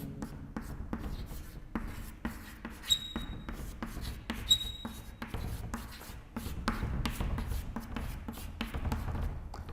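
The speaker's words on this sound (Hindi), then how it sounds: "यहां पे लिख दे रहा हूं" Pen or chalk strokes scratch and tap on a board during a history lecture, with quiet repeated bursts of writing and a couple of sharp clicks, the room otherwise hushed with no talking.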